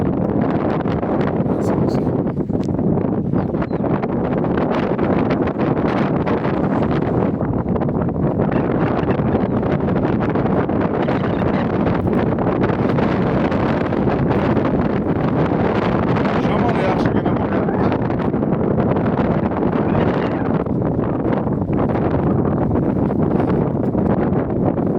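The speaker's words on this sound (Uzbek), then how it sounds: "Shamol yaxshigina bo'lyapti." Strong wind gusting and buffeting across open hilly land, a loud continuous roar with rumbling microphone blasts throughout.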